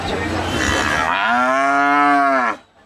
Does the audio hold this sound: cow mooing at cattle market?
yes